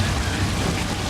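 Steady, dense hiss of heavy falling water from an artificial rain effect at a Universal Studios California show, like a downpour splashing on a hard surface, loud and continuous throughout.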